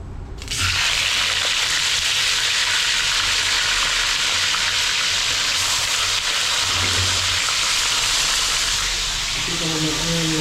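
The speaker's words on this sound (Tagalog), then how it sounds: "Puro prito." Salted food fries in a hot pan with a loud, close, continuous sizzle and crackle, holding steady throughout with faint clatter underneath.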